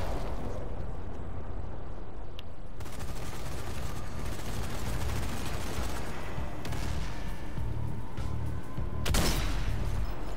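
An enemy machine gunner in Zombie Army 4 keeps up sustained automatic fire, a dense, continuous rattle mixed with booming impacts and explosions, loud throughout with a sharp burst near the end.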